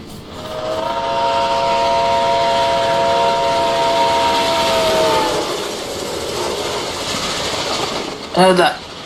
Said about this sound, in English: That's the locomotive Mr. Mark talked about.